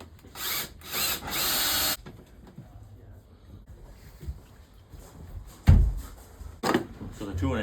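A power drill bores into cabinet wood in a couple of short high-pitched whirring bursts, followed by knocks and handling noises, with people talking nearby.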